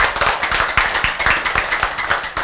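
A church congregation claps in a roughly steady rhythm, several hands striking together in close, punchy beats about four or five per second, loud and near, for two and a half seconds without voices.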